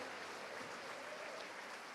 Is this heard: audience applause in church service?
yes